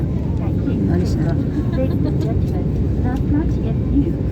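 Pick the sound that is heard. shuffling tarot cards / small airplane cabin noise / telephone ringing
small airplane cabin noise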